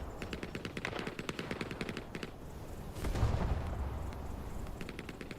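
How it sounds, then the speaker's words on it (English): Gunfire in the Vietnam-era shooter game Hell Let Loose Vietnam, with rapid rhythmic bursts from a machine gun followed by a heavier thudding mortar impact and its rumbling tail, all fairly loud with no talking. "Looks like mortars"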